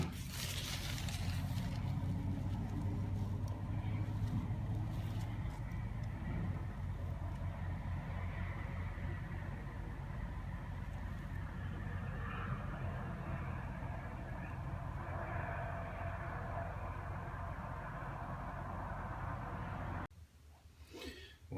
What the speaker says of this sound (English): Another truck has been at the No-Frills idling and running its refrigerator for the last couple of hours.